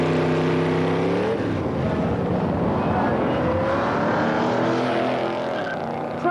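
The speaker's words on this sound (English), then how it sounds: "you may like to indulge in some Pro Street drag racing to test the acceleration" A Pro Street drag racing car accelerates hard, a loud engine roar climbing in pitch and holding strong throughout, with no talking over it.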